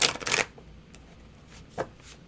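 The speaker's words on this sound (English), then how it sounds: "Shuffle." Tarot cards are shuffled in a quick riffle burst, followed by a couple of soft isolated card taps in a quiet room.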